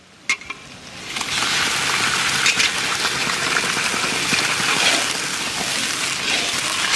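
Ginger added to hot oil for a fish curry, a loud, close sizzle that bursts in after a couple of small clicks and then keeps crackling steadily to the end.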